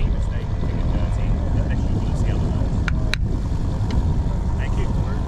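Futaba radio-controlled P-47 Razorback model plane flying a missed approach over a grass runway, a continuous whining propeller drone, steady and fairly close, with a few faint clicks mixed in.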